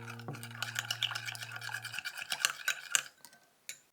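Dashi powder, sugar, soy sauce and mirin stirred in a bowl, a rapid scraping and clinking of utensil against the bowl for about three seconds, close and brisk, after a short hum fades out, ending with a single tap.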